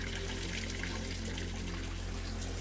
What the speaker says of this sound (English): the sound of the flowing water almost muffles the surrounding noise of the city